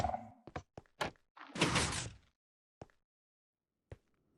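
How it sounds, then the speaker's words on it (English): Video game sounds of a sculk sensor triggering and a door opening and shutting: a few sharp thunks and taps, then a longer scraping swell, followed by isolated faint clicks amid silence. "You can hear the skulk sensor go off, the door opens, and he's just barely able to make it inside before it shuts again"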